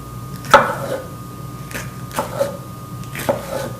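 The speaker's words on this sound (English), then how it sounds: "And then we just slice up the onions, and then slice up the pepper," Knife chops through onions and pepper on a board, three separate crisp cuts spaced about a second apart, close and fairly loud with quiet gaps between.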